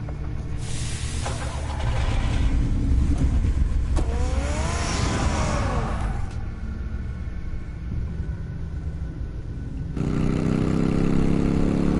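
Car engine in the Telltale Batman video game, a steady low rumble that rises and revs mid-way, then settles into a continuous drone with a louder, heavier stretch near the end; no talking.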